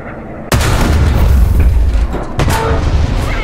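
An M1A2 SEP tank cannon fires in War Thunder, one sharp, loud, booming blast that leaves a heavy low rumble, followed by a second, weaker thud a couple of seconds later.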